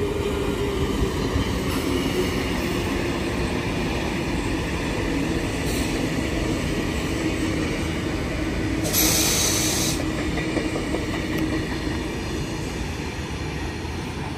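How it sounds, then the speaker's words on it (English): A Sydney K set electric train running, giving a steady rumbling roar of wheels on rail with a constant hiss and hum throughout, and a brief brighter squeal partway through. "Got my train and a K set,"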